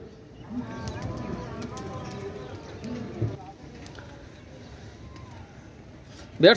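Baby Pakistani high-flying pigeons coo softly in the background, faint and intermittent beneath people talking nearby.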